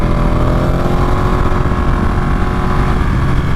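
A Ducati Panigale 959 motorcycle engine runs steadily and loudly up close, a dense continuous drone with a low throbbing rumble and no noticeable change in pitch, with no voices over it.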